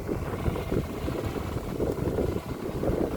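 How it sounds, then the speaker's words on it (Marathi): A three-wheel power tiller tractor runs in a sugarcane field, its engine a steady, rough, low drone that pulses slightly, close and continuous for the whole stretch. "तुम्हाला ट्रॅक्टरचा आवाज सुद्धा येत असेल।"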